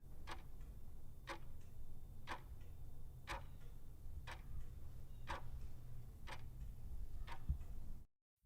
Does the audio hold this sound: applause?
no